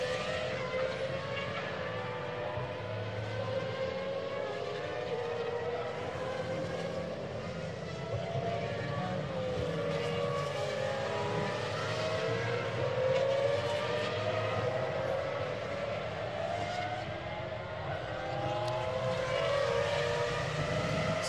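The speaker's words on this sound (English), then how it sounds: "that car blasting its way up towards turn four" GT1 race car at the Barcelona circuit, blasting uphill toward turn four, its engine a continuous loud roar with rising and shifting tones throughout, steady and close with no talk over it.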